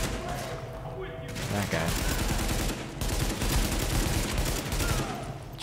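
Rapid automatic gunfire from a rifle with heavy recoil in the shooter game The Division, with dense continuous bursts broken by brief pauses, while a player talks briefly over it.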